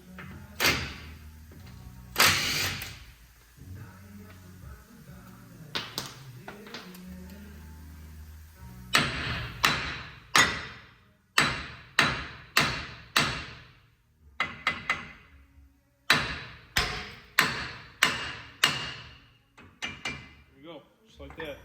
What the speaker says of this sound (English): You're going to hit it on the side of the knuckle right here until it releases